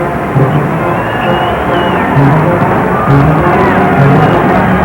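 A college basketball arena crowd at a 1986 Illinois State at Bradley game roars continuously, a loud, dense wall of cheering and noise that swells slightly near the end.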